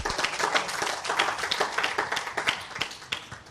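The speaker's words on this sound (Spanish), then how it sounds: "Den un aplauso al Señor." A church congregation claps in praise of the Lord, a dense burst of many hands with sharp individual slaps, loud at first and gradually thinning and tapering off.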